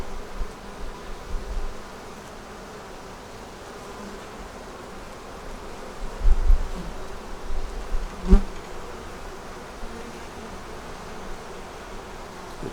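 Honey bees buzz steadily around open hive frames and nuke boxes, a dense continuous hum with a few louder passes close by partway through.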